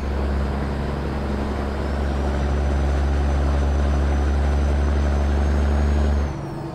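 A loud, steady truck engine drones from outside the cab in American Truck Simulator, a deep constant rumble with a faint whine, running alone until it drops off sharply near the end.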